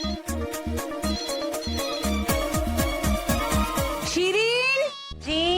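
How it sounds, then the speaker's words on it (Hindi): A phone ring tone plays over a rhythmic music track in a TV drama, a bright repeating melodic tone pattern, fairly loud and close, with a brief dropout near the end. "नजमा, जाके देखो किसका फोन है।"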